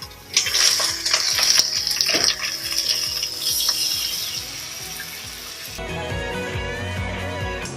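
Three cups of water hit a hot pan and sizzle with loud, steady hissing and spatter that eases and changes tone near the end.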